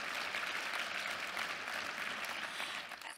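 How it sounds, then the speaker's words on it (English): Sustained round of applause from a room audience after a talk, faint and distant, holding steady before trailing off at the end. "You're going to get a big round of applause in the room."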